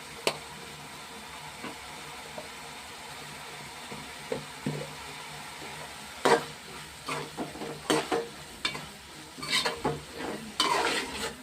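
Biryani masala frying in a pan as turmeric goes in, with a quiet sizzle under a scattered series of sharp spoon-on-pan scrapes and clinks that come thicker and louder in the second half.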